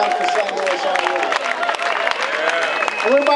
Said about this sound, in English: Let's give a round of applause for these guys for everything they've done for St. Louis already